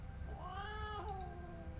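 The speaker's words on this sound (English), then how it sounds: "I yelp in surprise as a cat sprints past me, growling." A cat in the game Broken Colors lets out a single drawn-out, wavering yowl lasting about a second, faint and somewhat distant over a low steady background rumble, with no talk.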